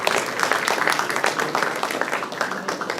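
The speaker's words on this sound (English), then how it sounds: "Please give him a round of applause." A hall audience at a medical college CME conference gives a steady round of applause, dense overlapping claps holding at an even level for the full stretch with no voices over it.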